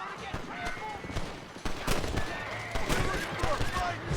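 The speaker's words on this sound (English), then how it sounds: "Who's shooting up this place?" Gunfire in Red Dead Redemption, with repeated gunshots and rapid volleys crackling over background ambience, some close and loud, while someone talks over the shooting.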